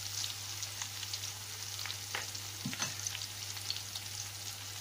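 Chilies, bay leaves and galangal sauté in a pan with a soft, even sizzle and a few faint scraping taps from stirring, with no talk.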